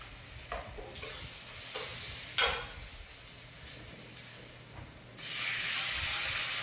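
Spice masala of tomato, turmeric, salt and chili powder frying in a pan: a low sizzle broken by a few sharp scraping stirs, then a sudden loud, steady hiss toward the end.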